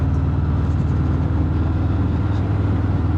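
A Harley-Davidson FXFBS Fat Bob 114 V-twin rumbles steadily in second gear at around 25 mph, its deep, even engine throb loud and close with constant road noise and no speech.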